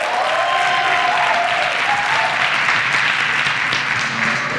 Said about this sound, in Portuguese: Palmas pra Djanira